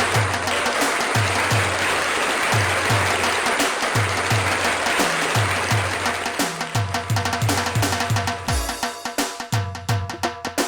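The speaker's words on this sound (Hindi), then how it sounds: "तालियां जोर से।" Studio audience on a late-night comedy talk show applauding loudly, a dense steady wash of clapping throughout with rhythmic low thumps underneath, growing more distinct and scattered toward the end.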